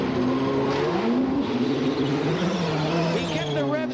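An Indy race car at the 1994 Indianapolis 500 revs on pit road with a loud, whining engine note that sweeps up and down in pitch, heard under steady commentary.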